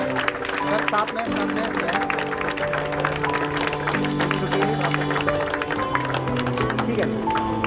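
Audience applause at a retirement ceremony, steady clapping from a crowd sustained throughout, with music and voices mixed in underneath.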